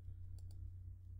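Two quick mouse clicks while playing Minecraft, sharp and close, about a tenth of a second apart, over a steady low hum.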